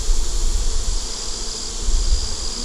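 Honeybees foraging at a growing hive, workers flying in with pollen, make a steady, dense buzzing hum close by that carries on without a break, with no voices over it.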